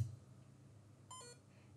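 TI-Innovator Rover giving a single short electronic beep after an error, faint and brief over a quiet low hum.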